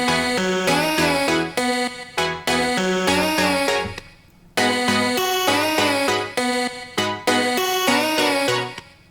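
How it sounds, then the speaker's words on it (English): A bright vocal synth lead plays a melody over sustained chords in an FL Studio electronic pop beat, with phrases repeating in short bursts and a brief gap midway, loud and upfront with no talking. "I have this vocal synth lead, this melody playing"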